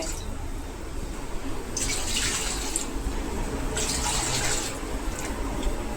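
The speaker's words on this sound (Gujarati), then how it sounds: "આપણે 4 વાટકા પાણી નાખીશું" Water pours in two short gushing bursts over a steady background rumble, splashing as it fills a pot for making sabudana potato papad.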